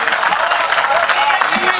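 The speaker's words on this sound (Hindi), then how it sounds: "एक बार जोरदार तालियां बजाकर मुझे बता दीजिए" An audience at a mushaira poetry recital claps loudly in a dense, continuous wash of applause that fills the whole short moment.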